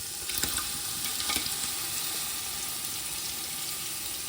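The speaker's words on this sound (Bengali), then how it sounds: "এটাকে দিয়ে এবার ভালো করে কষাবো" Spice paste with tomato puree frying in oil, a constant loud sizzle with a few brief scraping stirs near the start, no talk.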